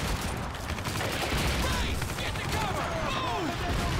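An automatic gun firing steadily in Call of Duty 2 at Hill 400, a loud continuous stream of rapid shots with battle noise around it and someone talking over the top.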